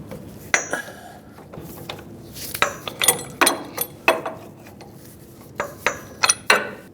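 Metal wrench clicks and clanks while loosening a reverse-threaded jam nut on a tie rod adjusting sleeve of a 2011-2018 Ram 2500, a string of sharp, irregular taps and ratcheting knocks close by with no talk.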